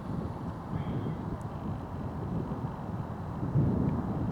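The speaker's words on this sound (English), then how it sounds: "chill wind up here today, which you can probably hear despite my best efforts" Chill wind buffets the microphone on a hilltop walk between Lewes and Brighton, a steady low rumbling roar that swells slightly near the end, with no talking.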